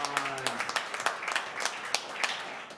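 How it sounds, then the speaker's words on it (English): Applause from the public at a city subcommittee meeting on Ontario Place, greeting the staff seated there: a scattered, moderate burst of hand claps, fairly even across the moment, with a faint tone fading early on. "I'd ask the public to give them a round of applause on my right for being here"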